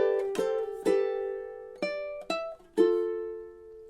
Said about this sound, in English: let's go ahead and hear what measure 13 sounds like in time.